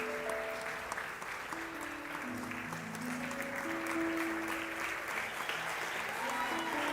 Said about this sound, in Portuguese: Toma o seu lugar aplaudindo ao Senhor por essa palavra.